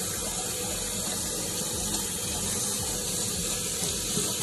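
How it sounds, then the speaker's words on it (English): Running tap water pouring over a silicone doll being rinsed, a close, steady, full rush of water with no pauses and no talking. "I'm just gonna go on ahead and rinse him off just with some running water"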